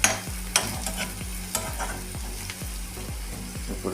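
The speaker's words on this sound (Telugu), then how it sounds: "కారం వేసుకొని బాగా మిక్స్ చేయండి." A spoon scrapes rhythmically through onions frying in oil with chili powder, about two strokes a second over a constant sizzle, for an eggless bhurji.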